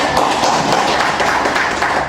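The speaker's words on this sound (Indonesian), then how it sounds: "Beri tepuk tangan dulu buat kita semua." A classroom of students claps hands together in brisk, dense applause, a continuous loud patter of many hands close by with no talking.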